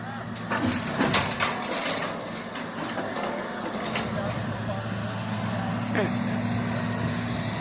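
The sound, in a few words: heavy machine lifting a big load of scrap iron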